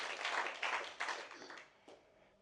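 A cinema audience of roughly a hundred people applauding after a screening: a brief burst of clapping that fades over a couple of seconds, fairly distant and soft.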